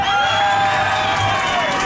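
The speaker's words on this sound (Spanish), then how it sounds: "Aplauso también para el número dos." A lively crowd on a yacht off San Andrés island cheers, whoops and claps in one loud, sustained burst, with shrill voices riding over the steady applause.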